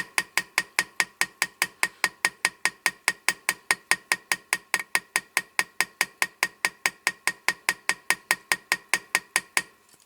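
Rapid, evenly spaced metallic ticks, about four per second, ring out close and alone as a hammer taps the axle of a Matchbox Foden cement mixer model during restoration.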